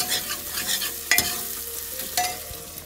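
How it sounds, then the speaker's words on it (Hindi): Onions fry in a pan with a bright, crackling sizzle, punctuated by a few sharp clanks of a utensil scraping and stirring against the metal. "तो चेक करो प्याज भून रहा है इधर"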